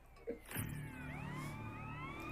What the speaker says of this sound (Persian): این همه ماشین پلیس دارن کجا میرن؟